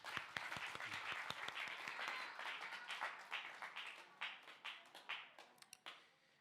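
A church congregation claps in a lively burst of applause that gradually thins into scattered individual claps toward the end, with no speech on top.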